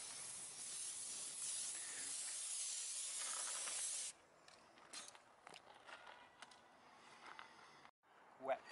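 A spray gun lays a sixth wet coat of paint on a car body during a mobile bodywork job, giving a loud steady hiss for about four seconds, followed by quieter scattered handling noises.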